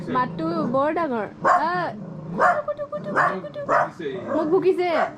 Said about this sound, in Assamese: মোক ভুকিছে